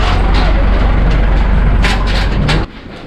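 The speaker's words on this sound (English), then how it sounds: "Check out this old truck coming down." An old truck rolls down a narrow back street in Trabzon's old town, a loud close rumbling engine that holds steady and then drops away sharply near the end.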